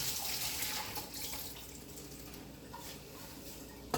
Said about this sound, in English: So I'm just gonna drain off the water.